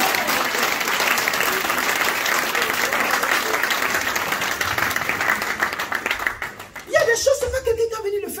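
A church congregation applauds in sustained, dense clapping for about six seconds, loud and close. The clapping fades as a voice speaks over the tail end with some light laughter.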